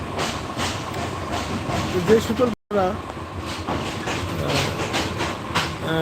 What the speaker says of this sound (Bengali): এই যে ট্রেনটি জেলা স্কুল মোড় পার হয়ে যাচ্ছে